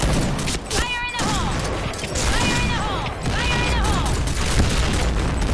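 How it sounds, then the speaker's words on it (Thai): Grenade explosion and gunfire in the online shooter Point Blank, with sharp bursts and booms over a dense, continuous layer of game noise, and a voice talking at moments. "เมื่อกี้น่าจะเป็นระเบิดตัวเองอะที่โดนอะ"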